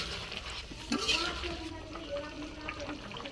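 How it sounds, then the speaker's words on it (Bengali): Bitter gourd curry being stirred in a pot over a steady low sizzle, with soft scraping and a couple of brief clinks of the spoon against the pot. "নাড়া দিয়ে দেব।"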